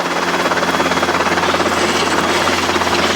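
A Robinson R22 helicopter in flight, coming down to land, heard from inside as a loud continuous rotor and engine roar with a fast steady beating pulse.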